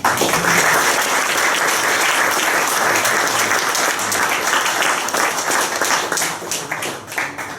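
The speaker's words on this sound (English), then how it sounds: "I'd like to give them a big round of applause." Loud, dense audience applause at a golf club anniversary historical book launch in West Limerick, continuous and steady across the whole stretch before thinning slightly near the end.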